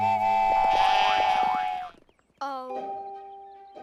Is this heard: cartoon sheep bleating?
yes